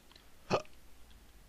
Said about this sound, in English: Ooh, hiccups.